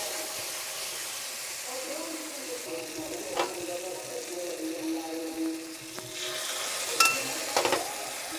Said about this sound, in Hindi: और थोड़ा सा फ्राई होने दे